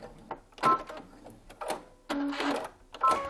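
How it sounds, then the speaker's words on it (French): A sewing machine runs a few short bursts of backstitching on fabric while making a reversible fabric lid, with brief whirring runs separated by pauses, close and fairly loud. "on va faire 2-3 points de couture en arrière"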